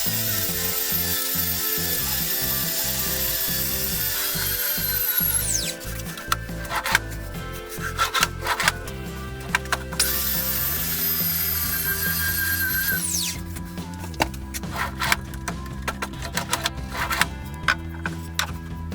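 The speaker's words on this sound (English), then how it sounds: "I had to get it all good sanding." Wooden drawers for a workshop organiser unit being sanded, with steady, close rasping strokes repeating for the whole stretch and an occasional higher tool whine, no voices.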